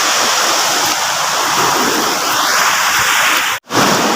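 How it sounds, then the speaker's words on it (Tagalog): Large ocean waves roll in at high tide along a Philippine shore, a loud continuous roar of surf and wash that briefly cuts out near the end. "Lalaki ng alon, no?"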